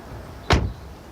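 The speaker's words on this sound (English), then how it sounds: "the doors should shut well." A used car's door shuts once with a single firm, solid thud, fairly close and otherwise quiet around it.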